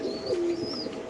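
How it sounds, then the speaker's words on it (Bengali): A large pigeon cooing close by: one short, soft, throaty coo at moderate loudness against quiet background noise, no speech. "খুব সুন্দর বড় সাইজের কবুতর"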